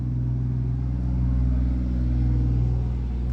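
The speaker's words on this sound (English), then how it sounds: "Lots of trucks." A big truck rumbling along a country road, a low steady engine drone that holds close and fairly loud for several seconds with no voices over it.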